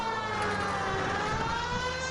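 A police car siren in the video game L.A. Noire wails steadily and loudly, a continuous tone that fills the short span alone.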